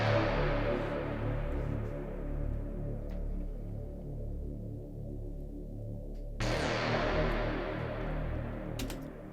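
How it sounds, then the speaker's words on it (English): Analog bass synth pitched down an octave and drenched in big reverb, a deep sustained drone with long washing tails; a second note swells in around two-thirds through, alone with no talk. "So it's analog bass. That's also pitched down an octave"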